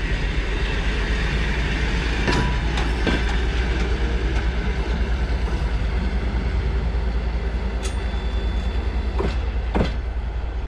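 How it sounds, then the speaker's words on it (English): A broad-gauge commuter train runs on its rails toward a village near Alapayevsk, Russia, with a steady, loud rolling rumble and occasional sharp wheel clicks and squeaks over ten seconds. "I'm temporarily leaving Alapayevsk and go on a broad-gauge commuter train to the village of Verkhnyaya Sinichiha"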